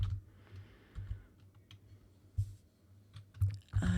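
Close typing on a computer keyboard, uneven bursts of soft key clacks with short pauses between them, alone without talk.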